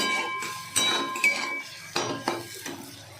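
A few crisp metallic clinks and scrapes of a utensil against dishes ring out at irregular intervals over a quiet background while fried mushrooms are served.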